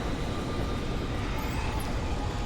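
A steady, loud helicopter engine roar with a broad mechanical drone, continuous and unchanging, powering up, with no voices, in the video game Alan Wake.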